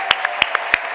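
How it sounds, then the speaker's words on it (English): Short burst of applause at a forces families awards event, about five separate sharp claps across one second rather than a full crowd roar. "Round of applause for Hive."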